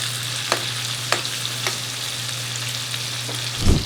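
Chicken frying in hot fat sizzles steadily in a pan, with a few sharp pops and a clatter near the end against a low hum.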